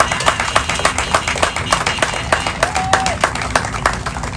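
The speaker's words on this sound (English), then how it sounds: "give them a round of applause" A commencement audience applauds the class of 2022 graduates at a Mt. Carmel ceremony, a dense, steady wash of many hands clapping close and loud, with a faint tone briefly rising above the crowd.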